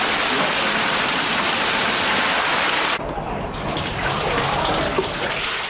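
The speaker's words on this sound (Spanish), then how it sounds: "voy a tener que bajar un poquito el bombo porque está muy cargado de agua" Water gushes loudly and continuously from a leather tanning drum loaded with water, a steady heavy pour that shifts to a lower, rougher rush halfway through.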